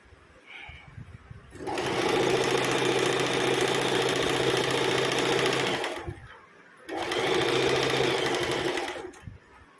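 An electric sewing machine stitches a seam on a kurti along a chalk line, running in a steady, loud mechanical whir for about four seconds, then a brief pause and another shorter run, close by with no speech.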